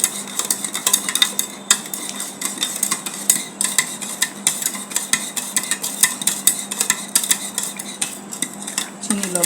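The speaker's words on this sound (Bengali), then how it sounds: "নাড়তে হবে একদম ভালো করে," A spoon stirs sugar and salt into lemon sherbet, clinking rapidly and repeatedly against the inside of a glass or jug in a busy, uneven rhythm, close and clear with no voices.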